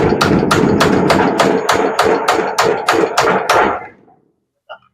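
About a dozen sharp, evenly spaced hammer blows drive a nail into a wooden nesting tray for breeding hens, loud and close, before stopping abruptly into near silence with one faint knock at the end.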